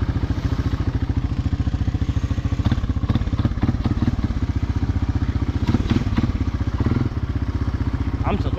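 A motorcycle with holes in its exhaust rides through deep water, its engine chugging loud and close with a rapid, steady pulsing throb, plus splashing and clattering bursts near the end.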